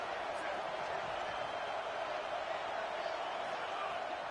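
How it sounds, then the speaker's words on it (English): A football stadium crowd at an Oregon Ducks game sends up a steady, dense roar with no breaks, distant and even throughout. "this crowd is turning it up a notch"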